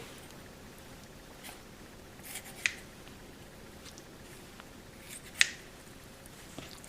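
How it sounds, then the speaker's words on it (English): Two sharp, brief snips of scissors cutting crocodile meat a few seconds apart, quiet and close, over a faint steady background hum. "I'm gonna use some scissors and I'm just gonna kind of cut it up a little bit"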